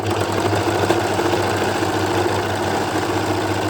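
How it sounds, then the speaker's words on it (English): An overlocker sews and trims the fabric panels of a retro cycling jersey, running continuously at a steady fast rattling hum, close and alone for the whole stretch, then cutting off abruptly. "that's the overlocking done"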